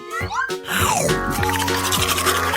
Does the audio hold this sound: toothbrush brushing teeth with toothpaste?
yes